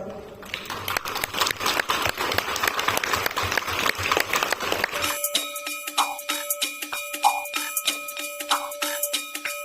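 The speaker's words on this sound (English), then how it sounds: "I again welcome you all with a huge round of applause." At a school's welcome for a new academic session, dense clapping fills the first five seconds, then gives way abruptly to a rhythmic, bell-like electronic jingle with regular tinkling beats.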